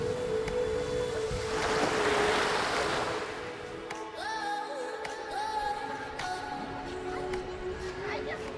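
Mediterranean Sea waves wash onto a beach in a soft, rolling surge that swells and fades, with speech and other voices over the surf.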